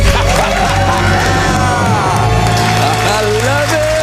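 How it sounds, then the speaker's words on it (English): A couple lets out a loud, sustained celebratory scream in a studio after paying off their debt, with overlapping whooping voices and cheering close up. "Let's hear a debt-free scream."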